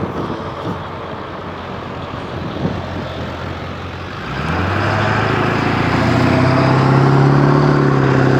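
A diesel-engine vehicle passes close by, its low rumbling drone rising and growing louder over the last few seconds as it nears, over steady road and wind noise.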